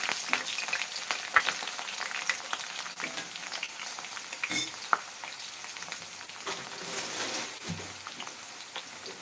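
Ingredients for bitter gourd spice powder fry in a pan with a steady crackling sizzle, punctuated by occasional louder pops and the scrape of stirring, continuous throughout and close by.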